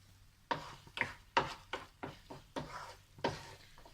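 A spiced mixture for Omana Pathiri is stirred and fried dry in a pan. A spatula scrapes in about eight distinct strokes over a soft sizzle, close and with no talking.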